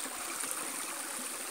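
River water streams steadily past at close range, a continuous broadband rush with a soft trickling texture and no voices.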